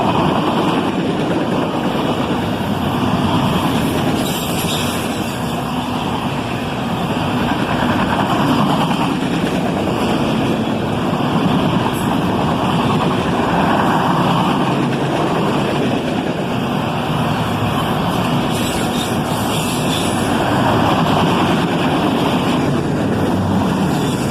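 An Autorack freight train passes on a 16-degree day, a steady, loud, continuous rumble and roar with rolling wheel noise and some wind buffeting, holding evenly for the whole stretch.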